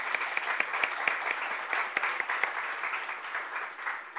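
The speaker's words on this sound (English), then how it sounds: "I would like to make an applause for the organizer" A lecture audience applauds the organizers of a talk on shallow neural networks with a steady, dense patter of many hands clapping together in a room for several seconds.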